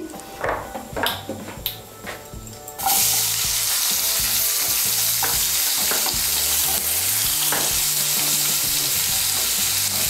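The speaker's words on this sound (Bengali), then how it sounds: "পেঁয়াজটাকে একটু ভেজে নেব।" Several light clinks and taps on a pan come first, then chopped onion hits hot oil with panch phoron and a loud, steady sizzle starts suddenly and carries on, with occasional stirring scrapes, while cooking a fish-head pui shak chorchuri.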